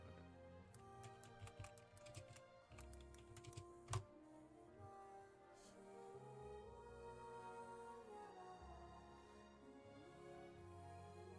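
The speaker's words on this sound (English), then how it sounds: "Bro, I'm literally typing." Rapid clicking of a computer keyboard, a dense run of quiet taps in the first few seconds, a sharper single click, then softer scattered keystrokes over faint background sound.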